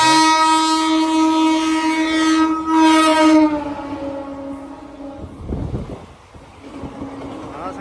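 A superfast express train on the Villupuram route sounds a long, loud horn as it approaches close by, then rumbles past with clattering wheels on the rails.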